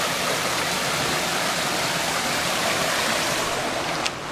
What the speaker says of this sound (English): you'll see the water for the waterfall meditations being supplied by a spring up in the mountains.